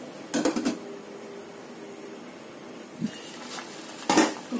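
A lid is set on a cooking pot of boiling pearl sago: a short clatter of metal at the start, a soft knock midway and another rattling clunk near the end, close and clear.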